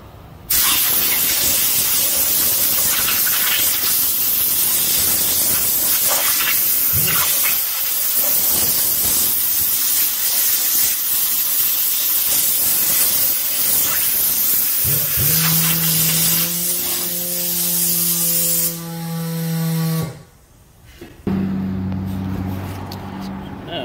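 Steady loud hiss of a spray nozzle blowing dust off a 2017 Dodge Ram 1500 fuel pump assembly for a long stretch, followed by a low mechanical hum and tonal whine as it cuts off.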